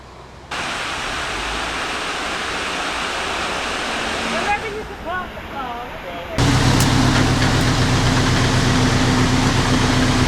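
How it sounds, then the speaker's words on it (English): Water surges loudly from a top canal lock into the middle lock, a steady broad roar that swells abruptly to full force partway through, with brief speech fragments in the middle. "And then we use the water in the top lock to fill up the middle lock."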